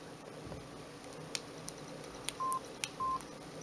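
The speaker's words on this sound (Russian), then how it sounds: "Так, звук клавиатуры." Keypad presses on a Samsung D100 flip phone: a few soft button clicks, then two short, clean electronic tones, close and quiet.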